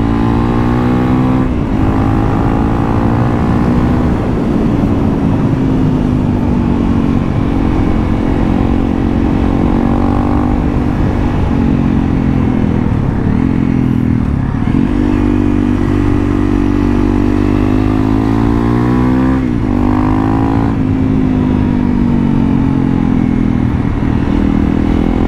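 A modified Honda CRF 300L motorcycle engine revs loudly and close by, a steady throaty drone that rises and falls in pitch several times over the stretch, with no talk over it.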